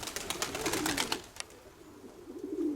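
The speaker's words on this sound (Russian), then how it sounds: "Это Вовчуковский голубь" A domestic pigeon gives soft, low throaty coos nearby, repeated a few times over faint background ticks and rustle.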